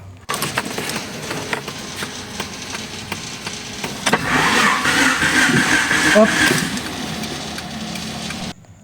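Honda Civic engine cranking over and catching after a jump start, a mid-pitched mechanical whir that swells into a louder running drone, heard up close with brief speech over it.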